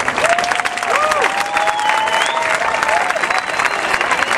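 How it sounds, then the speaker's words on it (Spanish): An audience at a church event for Gospel Day breaks into loud, sustained applause to welcome the speakers, with whistles and cheers threaded through the dense clapping. "Vamos a recibirlos con un fuerte aplauso."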